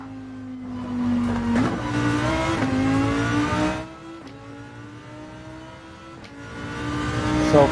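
Lamborghini engine revving hard through short upshifts on a hot lap in GT7, the harmonic drone climbing and dropping with each gear change, loud and close, easing off briefly midway before building again.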